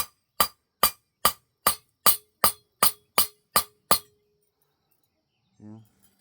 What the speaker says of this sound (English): Feel your hammer, see your hammer blow.